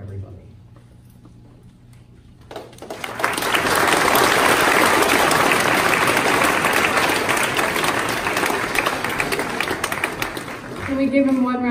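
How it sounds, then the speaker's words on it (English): After a quiet start, a large audience bursts into sustained, loud applause that holds steady for several seconds before a voice begins speaking. "Can we give him one round of applause, please?"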